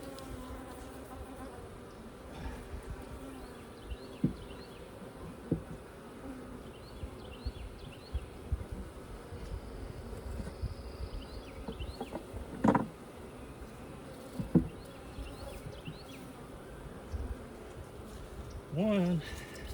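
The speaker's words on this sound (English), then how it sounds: "I need to shake some bees into this split." Honeybees buzz steadily around an open hive while a beekeeper shakes bees into a split during a spring inspection, with a few louder knocks and handling sounds and faint talk in the background.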